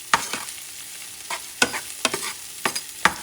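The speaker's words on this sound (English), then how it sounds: "I'm caramelizing things here" Ingredients caramelizing in a pan for Puerto Rican ground beef and rice, with a soft frying sizzle broken by repeated scraping stirs at an uneven rhythm, close and clear with no talking.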